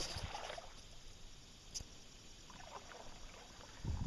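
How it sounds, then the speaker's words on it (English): A small boat is paddled on quiet water during jug-line catfishing, with soft faint splashes and paddle strokes at the start and again near the end over a low ambient hiss, with no speech. "I got to help Dave paddle, but we just want to get this on video."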